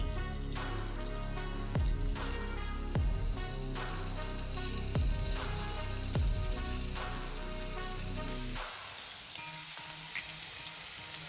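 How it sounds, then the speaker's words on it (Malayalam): Marinated chicken pieces fry in hot coconut oil for a Kerala-style chicken pola, producing a loud, dense sizzle broken by several sharp clunks and stirs before settling into a smoother steady crackle. "എണ്ണ നന്നായിട്ട് ചൂടായി കഴിഞ്ഞാൽ നമ്മൾ മാരിനേറ്റ് ചെയ്ത് വെച്ചിരിക്കുന്ന ചിക്കൻ പീസ് നമുക്ക് ചേർത്ത് കൊടുക്കാം."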